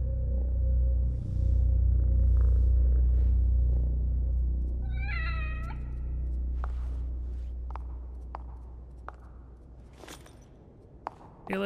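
A cat in The Evil Within video game gives a short series of clear meows partway through, set against a deep rumbling ambient drone and scattered soft clicks.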